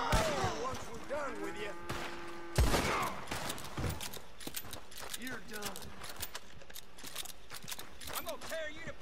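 Gunshots ring out in the Red Dead Online video game, a few sharp reports and one heavy blast among scattered clicks and clatter, heard alongside game dialogue and voices.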